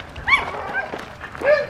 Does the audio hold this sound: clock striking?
no